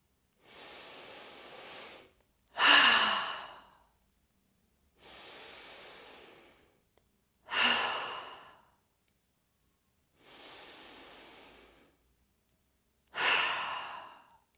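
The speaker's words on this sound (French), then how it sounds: "venir faire 3 respirations, 3 inspires par le nez, 3 expires par la bouche" Three slow breathing cycles during a gentle Yin yoga routine, each a soft inhale through the nose followed by a louder, sighing exhale through the mouth, close and clearly separated by short pauses.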